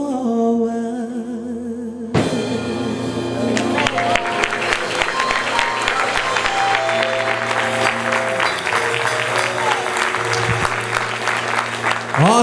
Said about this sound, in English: Give another big round of applause for Mr. Jimmy Young.